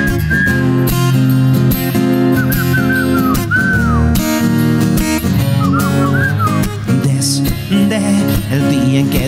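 A melodic whistle rises and dips over a full band playing a romantic song, loud and close, with the whistled phrases weaving in and out of the music.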